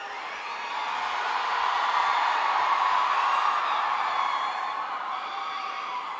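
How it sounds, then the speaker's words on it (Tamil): Huge crowd at the Ponniyin Selvan film launch event roaring with sustained cheering, whistles and applause, a dense, loud wash of noise swelling and holding steady with no talk on top. "உங்களுடைய கரகோஷம், விசில்கள்."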